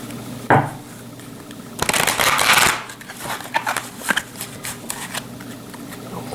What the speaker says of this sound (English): Cut the deck